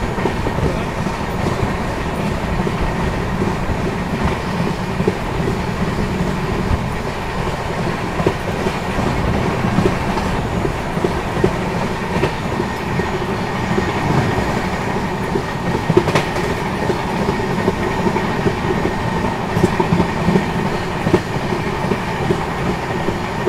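The Chennai Rajdhani Express runs on rails, heard from inside a coach as a loud, steady rumble with a continuous clatter of wheels over the track and occasional sharper knocks, no one speaking.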